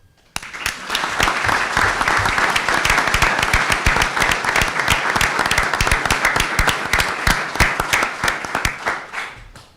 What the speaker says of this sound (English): we should give her a round of applause for her help